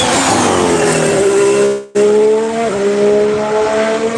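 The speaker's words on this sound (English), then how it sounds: "With the Haas, you're getting the whistle on braking even" A Haas Formula 1 car at a Barcelona test screams past at close range, a loud high-pitched engine note with a whistle, a sudden brief dropout, then a downshift as it brakes away.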